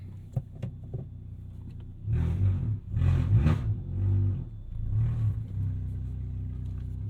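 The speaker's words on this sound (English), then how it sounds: "My car sounds way different, if you couldn't tell." A $500 beater car running on a straight pipe with no muffler gives a deep, rough rumble that swells loudly in several revving bursts after a few faint clicks, with no talk.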